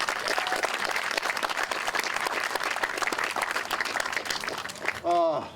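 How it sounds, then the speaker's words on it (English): An audience claps for a musician at a school district ribbon cutting, steady crowd applause that runs loud and continuous before a brief tonal sound cuts in at the very end. "Can we have a round of applause for that great musician?"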